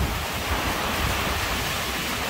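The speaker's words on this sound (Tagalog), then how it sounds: "Lakas ng hangin!" Strong typhoon wind in Rizal roars as a steady, loud, unbroken rush of noise, with no voices.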